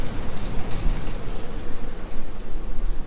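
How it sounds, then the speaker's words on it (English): Steady rain pours down on the savanna outside a villa on a wet afternoon, a dense continuous hiss of drops spread evenly across the whole stretch with no voices. "Rainy afternoon out there on the Savanna today."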